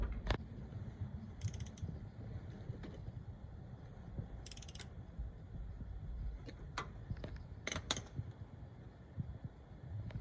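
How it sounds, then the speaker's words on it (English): A hand wrench ratchets a bolt snug on the rear differential cover of a Ford Super Duty truck, giving scattered short clicking bursts over a steady low rumble, close by with no talking. "tighten it down with the hand wrench"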